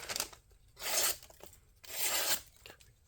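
A sharpened budget knife slices through a glossy magazine in two long rasping strokes, each a papery tearing hiss, with softer rustling of the pages in between.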